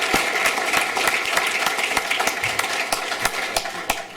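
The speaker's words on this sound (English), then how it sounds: "So let's all give him a big round of applause" Audience applause at an awards breakfast: dense, steady clapping from a room full of people, loud and sustained throughout with sharp individual claps standing out, no talking over it.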